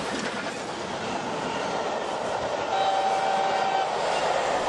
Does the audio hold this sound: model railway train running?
yes